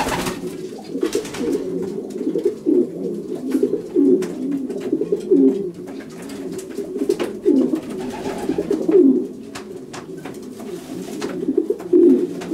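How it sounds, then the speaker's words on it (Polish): Racing pigeons coo in a loft, their soft, throaty calls repeating steadily and close at hand, with no talk over them. "Dojdą młode gołębie roczne."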